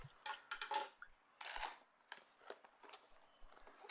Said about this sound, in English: now I'm using scissors, so hopefully that shouldn't be a problem.